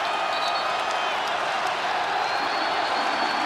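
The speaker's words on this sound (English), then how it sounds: "and this crowd is alive" Basketball arena crowd at a Kentucky vs Notre Dame college game, a dense, steady roar of cheering and applause that stays loud and unbroken throughout with no break.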